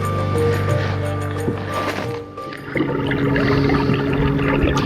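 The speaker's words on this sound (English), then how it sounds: "You can hear that motor working a little bit harder as I go into the wind here" A steady boat motor drones beneath rushing water and wind noise, its pitch rising slightly partway through as it strains harder heading into the wind.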